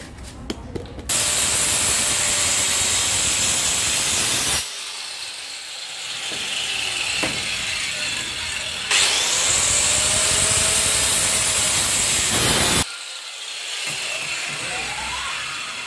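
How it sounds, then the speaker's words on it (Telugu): A cutting machine slices through waste material in two long loud bursts of steady high-pitched grinding, each lasting several seconds, separated by quieter running. "కటింగ్ మిషన్ ఆల్రెడీ పెట్టాను కాబట్టి ఇప్పుడు కట్ చేద్దాం"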